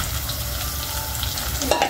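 Noodles with egg frying and being stirred in a hot pan, a steady close sizzle with occasional scraping of the utensil.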